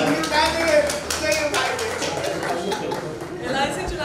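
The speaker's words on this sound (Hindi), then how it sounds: "सब लोग जोरदार तालियों से समर्थन करें" An audience at a book launch claps in support of a speaker, scattered claps rising and falling under nearby voices and chatter.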